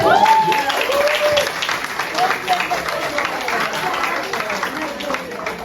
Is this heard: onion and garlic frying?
no